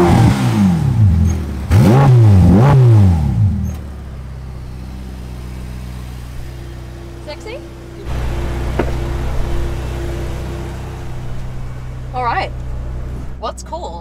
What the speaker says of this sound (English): This is what the F8 Tributo sounds like.